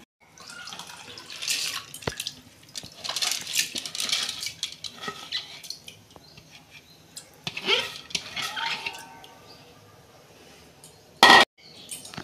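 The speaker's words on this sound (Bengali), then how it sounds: "আমি ডালটা ধুয়ে দিয়ে দিচ্ছি।" Water splashes and pattering as lentils are rinsed for Bengali khichuri, with scattered soft clinks of a metal pot and bowl, and one sharp, loud clatter near the end.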